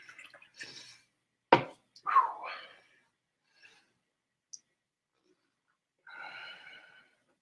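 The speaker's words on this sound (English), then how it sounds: "I'm definitely gonna pour some water in there." Water is poured into a container in a few short bursts, with quiet gaps, light splashes and faint drips between them, heard close up.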